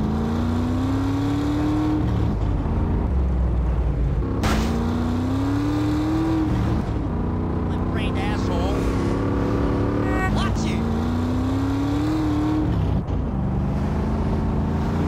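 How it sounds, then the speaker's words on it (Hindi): Heavy sports motorbike engine in GTA San Andreas, droning loud and close with repeated rising revs as it accelerates through gears, cycling up roughly every few seconds. "आवाज़ बड़ी जबरदस्त है बाइक की, ऐसा लग रहा है काफ़ी हैवी स्पोर्ट्स बाइक है"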